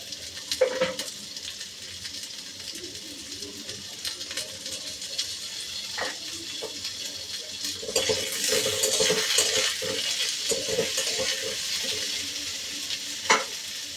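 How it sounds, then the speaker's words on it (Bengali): Pointed gourd fries in a pan with a quiet, steady sizzle as the pieces are turned and salted, broken by scattered clicks and scrapes of a utensil against the pan. "পটলটা উল্টে দিয়েছি, আড়া করে উল্টিয়ে দিলাম"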